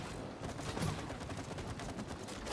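Gunfire in the video game It Takes Two, a dense, rapid stream of shots at low volume under a continuous, noisy game backdrop.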